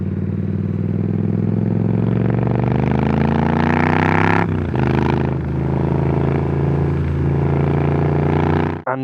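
A Triumph Street Scrambler motorcycle engine with an aftermarket exhaust revs up close and loud, its pitch climbing steadily, then drops back briefly and settles into a throaty idle before a sharp cutoff.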